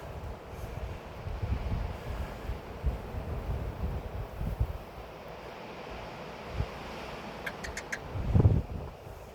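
Gusty wind blows across an outdoor spot during a solar panel installation, a steady broadband rush rising and falling in gusts, with a heavier buffet near the end.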